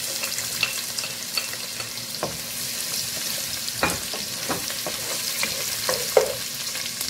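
Onion frying in a pan while being stirred, a steady close sizzle broken by repeated scraping clicks of the utensil against the pan, for a prawn majboos dish.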